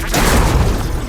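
A deep, close explosion boom in the action game Horizon Forbidden West, dense and loud across its whole short length.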